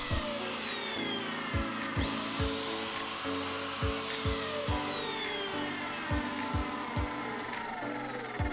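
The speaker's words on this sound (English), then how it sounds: "I've set up a stop block on the mitre saw to make sure that all the cuts are exactly the same size" A mitre saw cuts timber pieces to identical length against a stop block, with a motor hum and a rapid series of sharp repeated strikes or clacks, heard close but fairly quiet.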